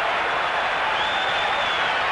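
A boxing crowd cheering and applauding during a bout, a dense, steady wash of clapping and voices with no breaks.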